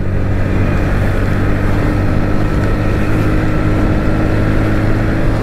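A 2024 Bajaj Pulsar NS125 motorcycle engine drones steadily while riding, a close, loud, continuous hum mixed with rushing wind noise and no talking.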